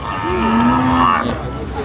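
A Thai red cow at a livestock market in Sikhoraphum lets out one long, loud moo, close by, over a faint background of market murmur.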